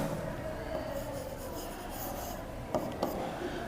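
A teacher writes an example on a board, with soft continuous scratching and rubbing strokes and two short taps near the end, close and fairly quiet.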